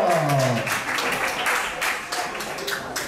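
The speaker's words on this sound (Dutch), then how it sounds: "En de hartelijk applaus voor Leon Hallera." Audience applause for a contestant on a Dutch game show, a steady wash of clapping from a crowd, with a voice speaking briefly at the start before the clapping carries on alone.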